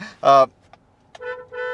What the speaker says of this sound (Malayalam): ഇതാണ് ഹോൺ വരുന്നത്